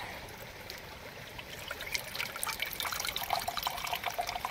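Filtered river water pours into a cooking pot on an outdoor stove in the woods, giving a close trickling splash that grows louder and more broken as the pour continues.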